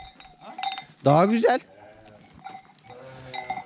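Sheep on a farm give one loud, wavering bleat near the middle, with people talking before and after it.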